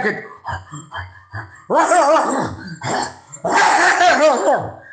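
A man imitates a dog on stage at a cultural festival, starting with several short, clipped barks in a row and then moving into louder, longer growling barks and yelps, all done by voice alone and heard up close.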